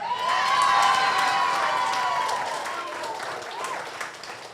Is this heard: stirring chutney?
no